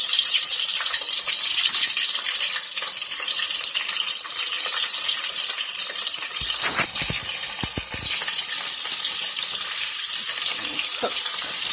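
Squid calamari pieces fry in oil with a loud, continuous crackling hiss, joined by a few sharp clatters of stirring partway through; nobody talks.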